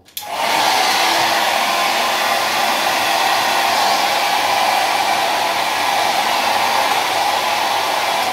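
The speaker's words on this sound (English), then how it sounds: "we can just take the top of hair and just curl it a little bit while we blow dry it with the heat." A hair dryer blows hot air while a brush curls the top of fine, straight hair into a pompadour, switching on with a brief click then holding a loud, steady, uninterrupted whooshing roar.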